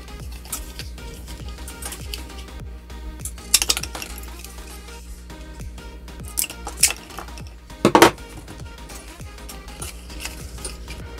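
Two plastic straws are cut up beside egg boxes set out for incubating ball python eggs, giving a few sharp snips and small clicks against a quiet background.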